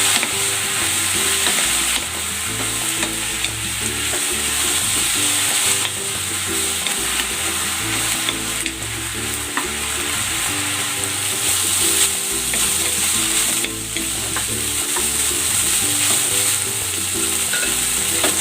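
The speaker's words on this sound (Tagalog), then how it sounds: "i-stir fry ko muna itong beef" Beef stir-frying in hot cooking oil, a loud steady sizzle with repeated scraping stirs and clinks throughout, close up and alone.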